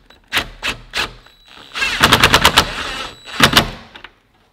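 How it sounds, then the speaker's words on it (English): A power driver rattles in bursts while running a self-tapping screw, a few short spaced hits followed by a longer rapid chattering run and a final burst, loud and close. "So we can go ahead and run a self-tapper down through here."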